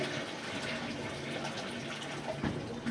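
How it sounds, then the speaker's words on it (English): Water rushes in a Japanese toilet on its small flush setting, a soft steady gush of running water, quiet and close, with a faint gurgle near the end. "If you have small deposits, you use the small flush."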